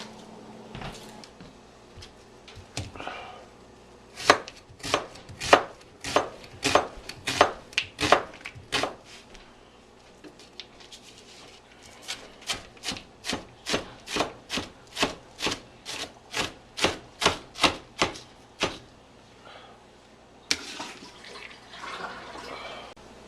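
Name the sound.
dicing a big onion with a knife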